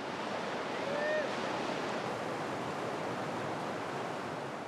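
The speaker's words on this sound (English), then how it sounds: "Today, the river has the fury of a mountain torrent." The swollen Rio Grande in flood, rushing like a mountain torrent, gives a broad, steady roar of churning water heard from nearby, with a faint brief whistle-like tone early on.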